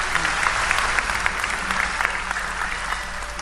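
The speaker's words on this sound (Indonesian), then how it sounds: "Tepuk tangan untuk beliau" An audience at a talk bursts into loud, sustained applause, thick overlapping clapping that stays full and close throughout, with faint voices mixed in.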